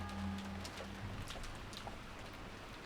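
Steady rain in the Umineko no Naku Koro ni visual novel, a continuous soft hiss of falling drops with a low hum underneath, with no voices.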